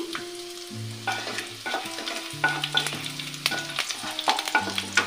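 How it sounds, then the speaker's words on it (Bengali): Chopped garlic fries in white oil with a spoon of ghee in a kadai, giving a close, crackling sizzle with repeated stirring clinks, while steady tonal background sounds run underneath. "আর দিয়ে নেব একটুখানি সাদা তেল। দিয়ে নেব আমি রসুন কুচি।"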